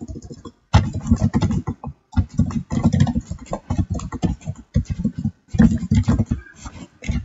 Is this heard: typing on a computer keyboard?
yes